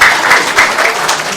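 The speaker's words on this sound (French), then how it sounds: "Vous pouvez applaudir." A conference audience breaks into a short, loud burst of applause at the end of a talk, dense close clapping that fades slightly toward the end.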